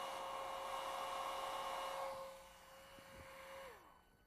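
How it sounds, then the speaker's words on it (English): Air blown over a heated bimetal strip to cool it: a steady, close whooshing blower tone with a clear whine that falls in pitch and fades as it winds down. "when I blow air over it, I can actually make it cool a little faster than it will otherwise"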